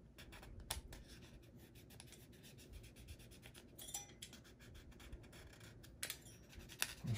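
Credit card scraping thermal paste off a CPU during a Lenovo ThinkCentre M900 upgrade, a quiet, continuous scratchy rubbing with a few sharper strokes, close and faint, with no talking.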